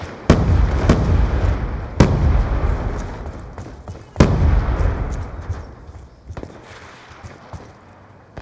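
Three heavy blasts from a thrown explosive in a Black Ops II Team Deathmatch match on the Slums map, each a loud booming hit with a rumbling tail, spaced a couple of seconds apart, then fading into quieter battlefield noise.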